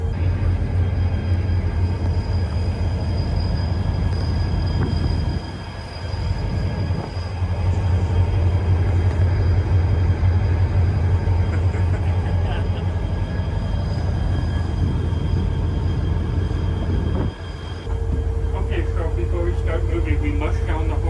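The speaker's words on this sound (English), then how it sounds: "Here I am driving a train" A vintage train runs on rails, its engine rumbling and wheels clattering steadily up close for about twenty seconds, with a couple of brief dips and a higher squealing tone near the end, and people talk over it.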